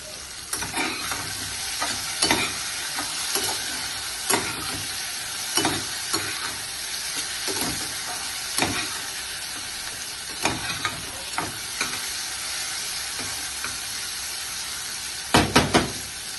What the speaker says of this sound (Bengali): মাছটাকে ভেজে নিই, চিংড়িটাকে প্রথমে, তারপরে রূপচাঁদ মাছটা